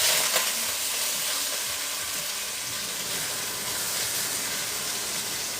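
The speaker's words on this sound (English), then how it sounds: "I am searing the chuck for a couple of minutes on each side" Beef chuck sears in a Dutch oven for birria, giving a steady, loud sizzle and crackle of frying meat with a hissing spatter that runs continuously throughout.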